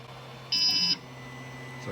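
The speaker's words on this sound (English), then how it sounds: "So it does a little beep to indicate that it's starting." A single short, high electronic beep from an Ender 3 3D printer starting a print, clear and close, over a faint background hum.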